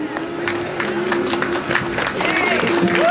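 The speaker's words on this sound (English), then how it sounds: "I'd like our speakers to come up one more time, if they would, just for a round of applause." A crowd at a housing and homeless encampment protest in Los Angeles gives the speakers a short round of applause, scattered claps under murmuring voices and cheers.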